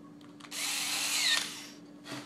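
A power drill drives screws into an Oster T-Finisher housing during assembly, one close, loud whirring burst of about a second followed by a brief shorter spin.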